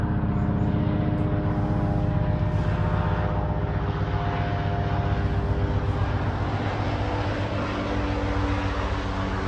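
A helicopter flies over a home near downtown Nashville, on a flight path to nearby hospitals. Its loud, steady engine drone and low rhythmic rotor throb hold for the whole stretch, with no talking.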